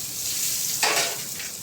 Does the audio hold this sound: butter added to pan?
yes